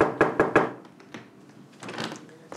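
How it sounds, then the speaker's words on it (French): Three quick, firm knocks land on a door in close succession, followed by a softer shuffle or thump a moment later, all close and in a quiet room. "Toc toc, y'a quelqu'un?"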